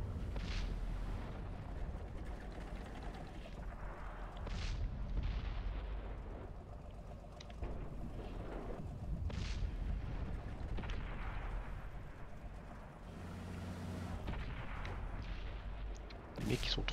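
Tank cannon fire and explosions in World of Tanks, with a Pz.Kpfw.IV Ausf. D in play, come as repeated heavy booms and bursts spaced irregularly over a low rumbling battle background, with someone talking between them.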